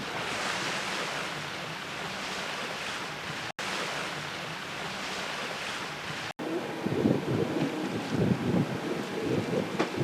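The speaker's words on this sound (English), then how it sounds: "The wind's picked up, so Elle's turning into the wind" Wind and waves while sailing off the Dalmatian coast: steady, loud rushing wind noise on the microphone mixed with surf, and water sloshing and splashing close by near the end.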